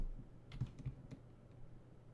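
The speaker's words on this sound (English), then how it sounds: "I'm typing." Light typing on a computer keyboard, a few soft, irregular key clicks in a quiet room with low background hum, fairly faint and without talk.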